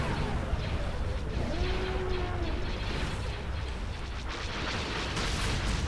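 Beam weapon fire in the space strategy game Star Wars Empire at War (Republic at War mod), a sustained roaring, rumbling blast with crackling bursts, loud and continuous throughout.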